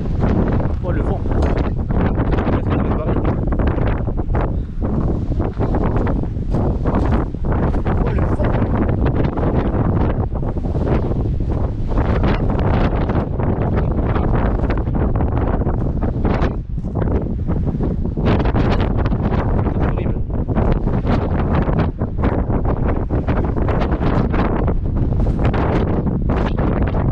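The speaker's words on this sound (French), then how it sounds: "Oh le vent." Strong wind buffets a microphone beside an old tower in Corsica, a continuous loud roaring rush with gusty surges throughout, and faint talk beneath it.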